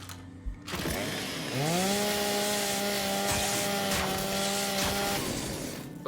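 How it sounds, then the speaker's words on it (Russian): Revving chainsaw bayonet on a Lancer rifle in the video game Gears 5, a loud, sustained mechanical whine that climbs in pitch after a short start and holds steady for several seconds before cutting off. "Прикольный звук пилы."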